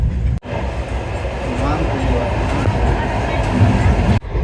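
Continuous rumbling and rattling from inside a moving train carriage, with brief dips where doors seem to open and close, and faint background voices.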